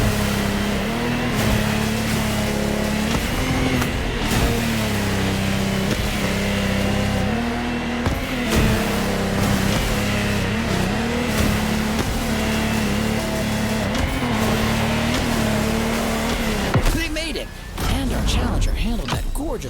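Powerful Lamborghini Technomar racing boat engines roar steadily throughout a water race in The Crew Motorfest, a sustained loud drone with music and a voice over it, easing off briefly near the end.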